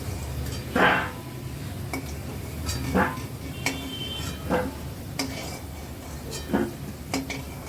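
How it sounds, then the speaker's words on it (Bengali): Cut potatoes frying in oil in a pan: a low sizzle runs underneath while a metal spatula scrapes and clinks against the pan every second or two, close up and with no one speaking. "আলুগুলো ভেজে নিই।"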